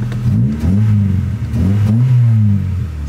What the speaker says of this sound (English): She's running! loud D16.